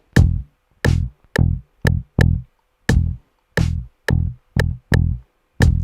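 Dingwall bass played alone in an uneven 4-3-3-2-4 sixteenth-note grouping: about ten short, punchy plucked low notes with clear gaps between them, close and distinct.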